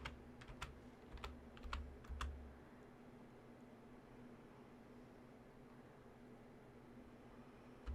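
Quiet typing on a computer keyboard, with a quick cluster of sharp key clicks over the first couple of seconds, then near silence with faint room hiss.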